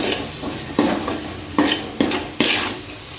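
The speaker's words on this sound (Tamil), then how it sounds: "உப்பு போட்டு நல்லா வதக்கிடுவோம்." Fish curry base being sautéed with salt in a pan, a soft continuous sizzle punctuated by four sharp scraping stirs of a spoon against the metal, close and with no talk.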